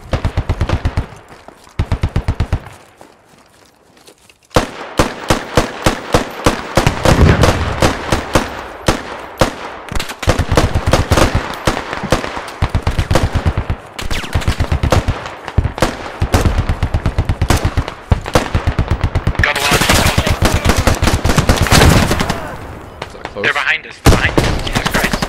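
Machine gun fire rattles in a squad shooter video game, with long rapid bursts of close, loud shots running almost without a break and a brief quieter gap near the start, and players talking at times.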